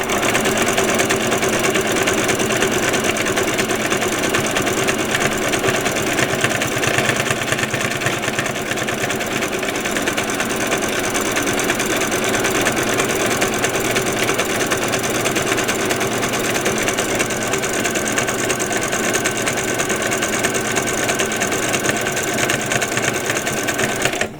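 A sewing machine stitches fabric for vet scrubs in a steady, fast, unbroken whir that runs close and loud throughout with no talking.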